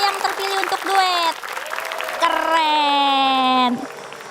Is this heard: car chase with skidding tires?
no